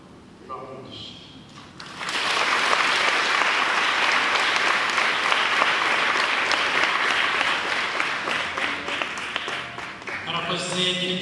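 A church crowd claps after a cardinal's Easter address: a loud, sustained burst of many hands that holds steady for several seconds, framed by brief speech at the start and end.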